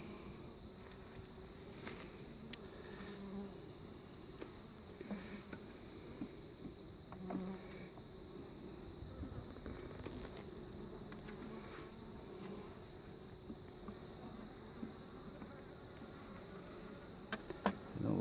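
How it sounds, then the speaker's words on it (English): Honeybees hum around an open hive during an inspection, a dense, steady buzzing close to the microphone that continues without pause, with faint small taps and handling noises underneath. "There's lots of bees."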